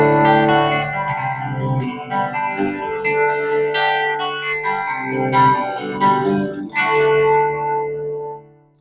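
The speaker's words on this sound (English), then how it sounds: "this is clean, a little bit of reverb through a Marshall DSL 5C valve amp" Clean electric guitar on a Telecaster's bridge humbucker through a Marshall DSL 5C valve amp, playing chords and single notes with light reverb, ringing and sustained, loud and close, no voices.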